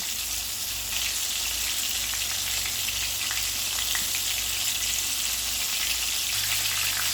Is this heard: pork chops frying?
yes